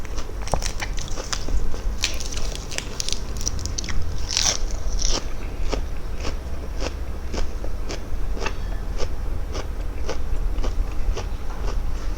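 Close, steady crunching as crisp blanched bitter gourd is bitten and chewed, a fast run of sharp crackly bites over a low constant background hum, with no talking.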